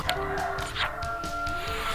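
Rooster crowing sound effect from the FIFA Mobile game, a short synthetic cock-a-doodle-doo over steady game music and tones, no speech.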